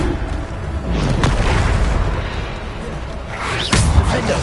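A Bombarda explosion spell bursts in a video game, a heavy booming blast with rumbling debris and a second whooshing impact near the end, loud and close.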